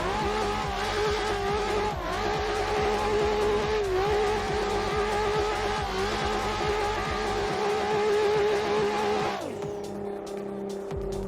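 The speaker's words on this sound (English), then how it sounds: "We still haven't scrubbed the tires either. So let's do a little scrub." Nissan 400Z racing car scrubbing its tires, a steady loud engine drone with wavering pitch and tire scrub, ending in a sharp downward drop as the engine cuts back near the end.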